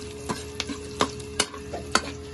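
Bitter gourd (ampalaya) and pork being stir-fried, a soft sizzle broken by five or six evenly spaced scraping strokes of a utensil against the pan, with no voice.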